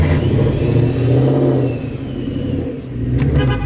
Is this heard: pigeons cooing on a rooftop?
no